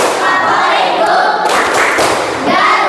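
Children clap along in a classroom clapping chant, a run of quick, fairly loud hand claps and thumps close by, with chanting voices mixed in.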